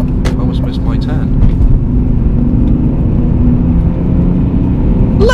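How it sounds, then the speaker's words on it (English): A car engine drones loudly and steadily from inside the cabin, a constant low rumble with a brief higher sound near the end. "the car sounds amazing"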